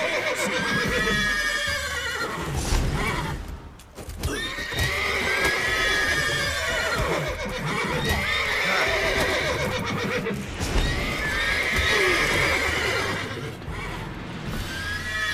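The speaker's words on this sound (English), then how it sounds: "Alright, horses, calm down." Horses in The Witcher 3 whinny and neigh repeatedly over a steady clip-clop of hooves, loud and close throughout with no talking.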